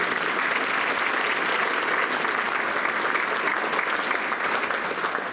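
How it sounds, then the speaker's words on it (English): Luncheon audience at a university alumni awards event applauding, dense continuous clapping at steady strength from start to finish, fairly close and full. "Let's lead applause for the leaders of our campus."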